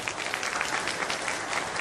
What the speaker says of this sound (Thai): ผมอยากจะรบกวนให้กับพวกเราทุกคนช่วยปรบมือให้กับคณะกรรมการ จัดงานในวันนี้ด้วยครับ